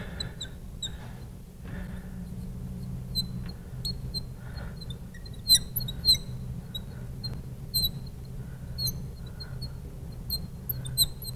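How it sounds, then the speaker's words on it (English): A marker squeaks against a classroom board during a chemistry lecture, giving short high-pitched chirps and squeals in irregular bursts over faint room hum, fairly quiet and with no talking. "I am cursed with squeaky markers"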